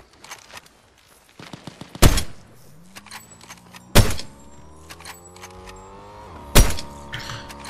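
Sniper and gun shots in a Fortnite match: three loud, sharp cracks spaced a couple of seconds apart, each trailing into a ringing decay, with faint clicks, footsteps and rising tonal game effects between them.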